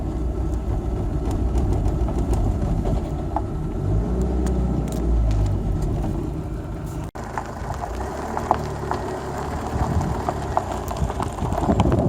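A vehicle pulling a trailer on a village road, heard as a steady engine rumble with rattling and clattering over the whole stretch, loud and close, with a brief cut near the middle and no voices.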